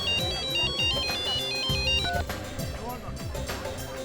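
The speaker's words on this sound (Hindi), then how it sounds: "आपका फोन बज रहा है।" A mobile phone ringtone plays a bright repeating electronic melody over a dramatic background music score, loud and close, with the tune cutting out partway through.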